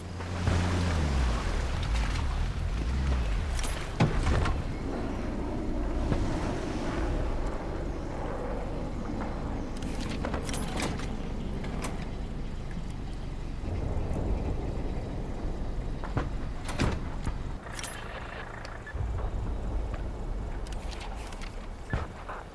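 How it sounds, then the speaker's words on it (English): Boat engine rumbling steadily as it pulls up to a dock in the Vietnam War shooter Hell Let Loose: Vietnam, with occasional clunks and thumps over continuous low noise and no talk. "Pull the boat up to the dock and switch the engine off."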